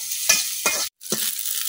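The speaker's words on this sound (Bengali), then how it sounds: "এখন আমি মরিচ গুলা খুব ভালোভাবে ভাজা নিলাম।" Chillies fry in a little oil in a wok while being stirred: a close hot sizzle broken by three scraping stirring strokes and a brief pause, with no voices.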